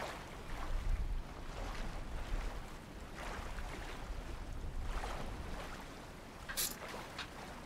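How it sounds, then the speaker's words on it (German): Water washes and splashes steadily in the survival game Sons of the Forest, with a wind-like roar and a brief bright splash near the end, faint and with no one speaking. "Ich bin ins Wasser gefallen."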